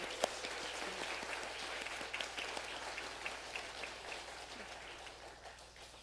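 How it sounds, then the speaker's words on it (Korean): A church congregation claps in thanks during a Sunday worship service, a soft, fairly quiet patter of hands that thins toward the end. "귀한 감사 박수 한번 부탁드리겠습니다"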